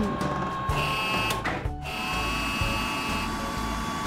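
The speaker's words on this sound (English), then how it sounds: "Let's top everything off with a dryer." A steady, whirring mechanical blow with a faint high whine runs throughout, close and continuous, briefly dipping once midway.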